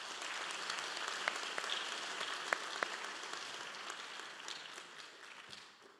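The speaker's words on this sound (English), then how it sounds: "how about a round of applause for Chairman Steele" Audience applause at a university honorary degree and medal ceremony, a soft, distant wash of many hands clapping that holds steady and then fades out.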